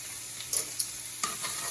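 Shrimp and minced garlic sizzling in a hot pan while being stirred, a steady close frying hiss with a few scraping clicks of the utensil, no voices.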